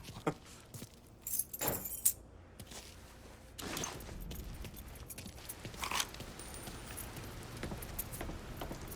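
Car keys jangle in a few short metallic bursts in the Mafia III video game, fairly faint and close, over a low background of ambient noise.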